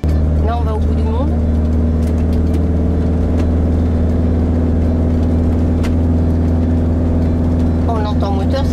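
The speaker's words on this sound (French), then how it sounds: "On entend moteur, ça grimpe." A car engine drones and labours while climbing a steep road in Andalusia, a loud steady low rumble throughout, with faint speech-like bursts near the start and end.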